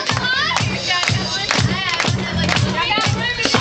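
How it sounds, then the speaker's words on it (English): Rhythmic hand claps from a crowd keep time with a funky band playing a song, steady beats repeating under loud music and singing. "Everybody clap your hands."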